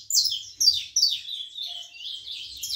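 A native Brazilian canary (canário da terra) in training for a song tournament sings close by, with bright, rapid chirping phrases repeated in quick succession.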